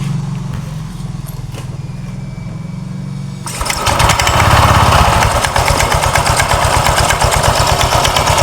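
A Honda Vario 125 scooter that idles roughly starts up, then its engine runs loudly at close range with a steady rapid putter.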